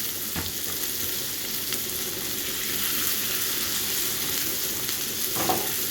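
Ginger and garlic paste fries in melted butter with a steady close sizzle, punctuated by a couple of brief stirring scrapes.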